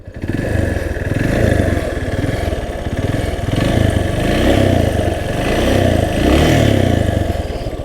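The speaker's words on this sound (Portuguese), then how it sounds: "o ronquinho do motor" A Yamaha Ténéré 250 trail motorcycle, fitted with saddlebags, idles close by with a steady, throbbing engine rumble and a light mechanical clatter that never stops.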